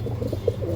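A pigeon of a breeding-quality Andhra line gives a brief, soft coo of a few low pulsing notes at close range, over faint background hum.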